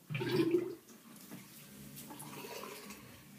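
Water poured and running into a basin while hair is being washed, a loud splashing burst for the first moment that then settles into a softer, steady trickle and slosh.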